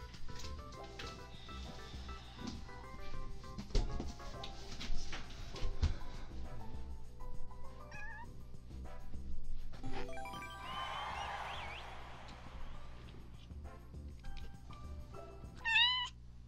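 A pet cat meows several times at moderate distance over the beeps and music of a video game, with a few short clicks and jingles mixed in.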